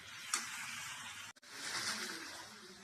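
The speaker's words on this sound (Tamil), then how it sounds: "சிக்கன் போட்டு நல்லா மிக்ஸ் பண்ணணும்।" Chicken pieces sizzling in a hot pan as they are stirred, a steady hiss of frying with a soft scrape near the start and a brief dip midway before the sizzle resumes.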